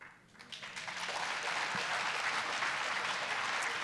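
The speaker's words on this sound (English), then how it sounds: "That was an applause line, very well noticed" Audience at a Left Forum closing plenary breaks into applause after a brief quiet moment, the clapping swelling quickly into a dense, sustained roar of many hands.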